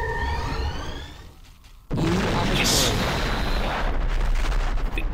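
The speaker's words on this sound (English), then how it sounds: "Quantum torpedoes going in." Quantum torpedoes fire and explode in Star Trek Armada II during a Federation fight with Romulan ships. High electronic firing tones give way to a sudden, sustained roar of loud, booming blasts, with a voice talking early on.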